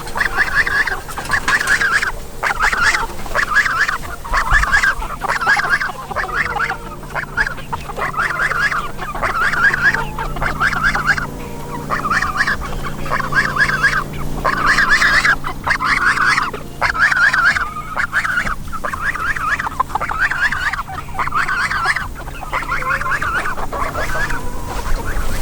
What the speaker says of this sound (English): And Mr. Goose behind me here is making some noise, so hold tight.